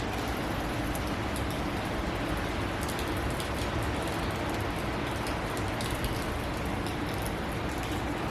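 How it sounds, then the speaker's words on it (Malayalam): Steady rain falls on a dark, overcast day during a cycling trip around Ireland, an even, unbroken hiss that stays at the same level from start to finish with no voices. "ഇപ്പോൾ നിങ്ങൾക്ക് കാണാൻ പറ്റുന്നുണ്ടാവും മഴ പെയ്തുകൊണ്ടിരിക്കുന്നത്"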